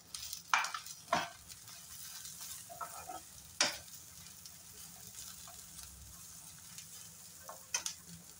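Pointed gourd and a little potato sizzle softly in a pan while a utensil scrapes and stirs now and then, with a few sharper clinks.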